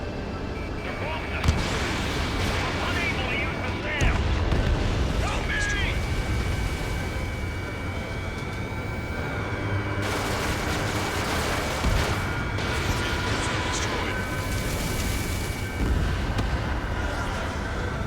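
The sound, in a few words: bombs exploding in Ace Combat 7 video game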